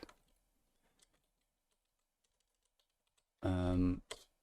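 Light, scattered keystrokes on a computer keyboard, faint and sparse across the first seconds, followed by a short burst of loud voiced sound near the end.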